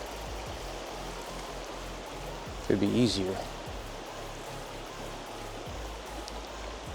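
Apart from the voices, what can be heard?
river flowing in winter wilderness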